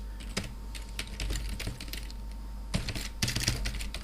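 Code is typed on a computer keyboard in quick, irregular bursts of close key clicks, with short pauses between runs of keystrokes.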